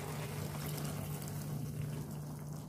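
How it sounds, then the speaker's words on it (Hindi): Water pours steadily into a pot of pickled eggplant and potato curry with fried spices, about half a cup, giving a continuous rushing, trickling wash with a low hum beneath and no talking. "अब इस पॉइंट पे मैं 1/2 कप के करीब पानी डालूंगी"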